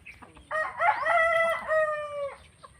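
A rooster crows once, loud and close, in a long drawn-out call with several rising and falling segments, on a morning visit among ornamental chickens.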